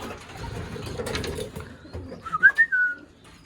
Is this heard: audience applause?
no